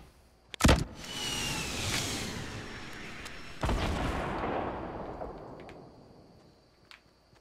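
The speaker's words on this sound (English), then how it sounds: "I'm gonna shoot it." Two sharp gunshots from the player's weapon in Fortnite Battle Royale, the first loud and close, the second a few seconds later, each followed by a long fading outdoor echo and a few faint distant clicks.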